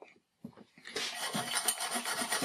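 A rough, steady rasping comes from filing burrs and impurities off a freshly drilled plumbing pipe, close and continuous, after a few light scrapes and taps.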